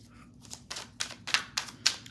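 Tarot cards being shuffled and set out for a reading, a quick run of crisp, close snapping flicks that grow sharper and louder toward the end.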